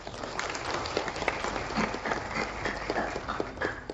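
Audience at a virtual inauguration and foundation-stone ceremony applauds, giving a steady, dense wash of clapping from a crowd that carries evenly throughout.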